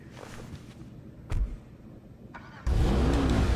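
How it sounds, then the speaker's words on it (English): A couple of clicks and thumps, then a V8 car engine in a video game cranks and roars to life, settling into a deep, loud idle. "Yeah, it kind of sounds like a V8 or a V12."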